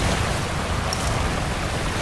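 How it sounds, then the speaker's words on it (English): Gusty wind blowing mist off a waterfall in a Himalayan gorge, a steady broadband roar of rushing water and wind close to the microphone, unbroken for the whole stretch. "A sudden gust of wind starts blowing mist from the waterfall."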